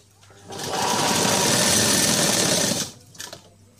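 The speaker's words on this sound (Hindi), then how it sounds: "इस तरह हम सिलाई बिल्कुल सीधे कपड़े पर ही पट्टी को अंदर की तरफ मोड़ते हुए सिलाई लेंगे।" Sewing machine stitching a piping strip on a blouse, the fabric strip folded inward as it's sewn; a steady, loud mechanical whir runs for about two seconds, then stops, followed by a few faint clicks.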